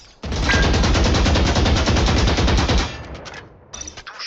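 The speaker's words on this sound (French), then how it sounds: "Vide un chargeur complet sur la cible en tirant au jugé." Sustained automatic gunfire in Valorant as a full magazine is emptied in one continuous spray, loud and close, then cutting off into a few faint trailing clicks.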